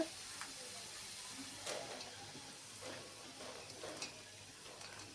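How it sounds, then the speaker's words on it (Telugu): Curry leaves frying in hot oil for a Telugu mixture snack, giving a faint steady sizzle and hiss with a few soft pops and crackles scattered through it. "కరేపాకు కూడా బాగా గోల్డ్ కలర్ వచ్చేదాకా వేపుకోవాలి"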